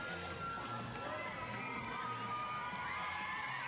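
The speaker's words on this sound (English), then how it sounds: "Crowd getting up and about to finish off this game" Crowd cheering at a women's professional basketball game in Perth, a steady roar of voices with shouts and a few bouncing balls, while a commentator talks over it.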